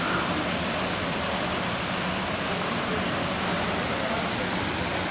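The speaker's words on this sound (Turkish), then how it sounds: "Şurada da ileride bir şelale var." A waterfall roars as a steady, broadband rush of falling water, constant and fairly loud throughout with no other distinct sounds.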